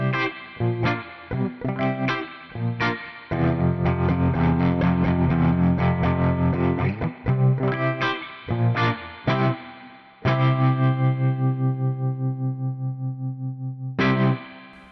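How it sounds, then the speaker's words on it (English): An electric guitar runs through a tube spring reverb model on a Fractal FM9, with strummed chords and sustained notes that ring out and trail into a soft reverb tail between the phrases. "let's try that tube spring reverb"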